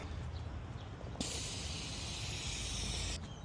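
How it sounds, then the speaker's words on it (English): Air hissing out of the valve of a watertight motorcycle pannier, a loud, steady, bright rush lasting about two seconds before cutting off over faint background noise. "I have to let some air out. So, oh, there is a valve"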